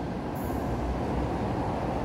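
An LRT train pulls into Pegangsaan Dua station in Kelapa Gading, Jakarta, a loud steady low rumble close by that fills the whole moment, with a brief high squeal near the start.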